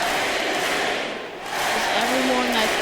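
Dense crowd noise from a packed arena at a Bulls vs Celtics basketball game, heard from the front row, with a loud steady wash of clapping and cheering that dips briefly mid-clip before swelling again, voices mixed in.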